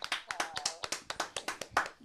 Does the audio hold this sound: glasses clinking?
no